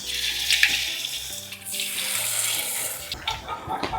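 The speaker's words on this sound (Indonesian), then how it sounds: "Minyak sudah panas, langsung aja masukin adonan." A steady, bright hiss of batter frying in hot oil, close up, with a brief gurgling change partway through.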